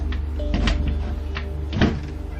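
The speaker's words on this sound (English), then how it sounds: "You open the door." A door being opened in a dark room during a late-night Midnight Man ritual, with two short rattling, scraping bursts about a second apart over a steady low hum.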